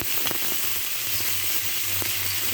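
Pencho fish fries in hot oil with a steady, moderately quiet sizzling hiss and a few light crackles, no voices.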